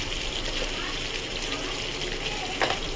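Water poured into a pan of spiced curry seasoned with turmeric, cumin and coriander powder, a steady broadband gush and sizzle running the whole time, with a brief louder splash near the end.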